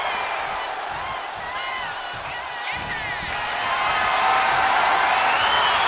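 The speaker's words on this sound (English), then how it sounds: "Cargill drawing a big reaction from the crowd." Arena crowd cheering in the WWE 2K25 wrestling game, a steady broad roar of fans that swells louder toward the end, with a commentator's voice over it.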